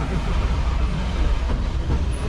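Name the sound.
train turning around on a wye track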